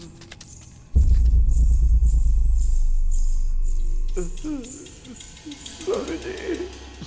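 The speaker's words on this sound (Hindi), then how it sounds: "स्वामी छन छन की आवाज आ रही है।" Metallic chhan-chhan jingling sounds over a heavy low rumble in a horror movie scene. The jangling is bright and continuous, and voices emerge toward the end as the rumble eases.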